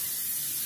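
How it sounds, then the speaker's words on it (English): Cooking spray hisses onto a frying pan in one short, steady, close burst. "spray my frying pan a little bit,"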